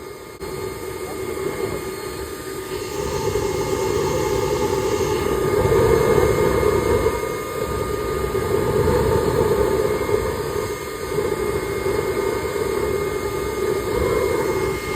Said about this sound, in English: The brake clean goes everywhere, and it stays on fire.